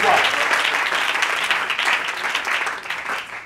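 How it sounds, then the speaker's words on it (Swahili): A congregation at a special Sunday church service applauds steadily and loudly, a dense continuous wash of many hands clapping together that fades slightly toward the end. "Tu peux applaudir très fort le Seigneur."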